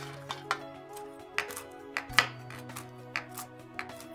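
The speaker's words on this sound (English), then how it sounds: "and then we're going to chop them coarsely" A knife chopping baked walnuts coarsely on a cutting board: a steady series of crisp, close thuds at an uneven rhythm, about a dozen cuts, with faint background hum and no talking.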